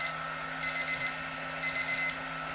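Kitchen-style timer alarm chirping in quick groups of four high beeps, two bursts about a second apart, over a constant blowing hum from a heat gun nearby while making resin coasters.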